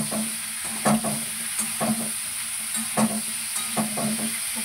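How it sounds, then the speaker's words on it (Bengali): Cauliflower fries in a pan with salt and turmeric, giving a steady close sizzle and hiss broken by several sharp stirring scrapes at regular intervals. "কপিটা ভাজা হোক ততক্ষণে।"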